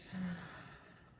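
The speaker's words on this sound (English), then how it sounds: "take a deep breath in and a clearing breath out" A single deep clearing exhale during a seated Kundalini yoga breathing practice, a soft, close, breathy sigh that fades out over about a second.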